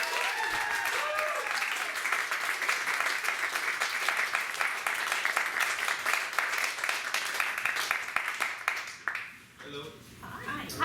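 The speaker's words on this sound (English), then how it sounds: "Give a warm round of applause for Lee the Poet." An audience at a DC poetry road show applauds for Lee the Poet, giving steady close clapping that holds for about nine seconds and then dies away as voices come in.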